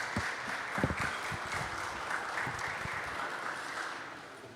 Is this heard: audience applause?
yes